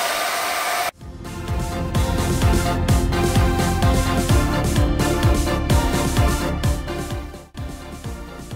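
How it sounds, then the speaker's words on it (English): An inexpensive hair dryer blows loudly and continuously on its high setting, with a brief dip near the start and a short drop toward the end. "here's just an inexpensive hair dryer"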